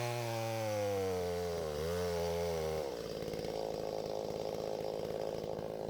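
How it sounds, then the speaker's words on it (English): A chainsaw cuts through sassafras wood outdoors in the woods, its engine whining at high pitch before dropping into a rougher, loaded growl as the chain bites into the log, close and loud. "That's the same chainsaw we had when I was a kid."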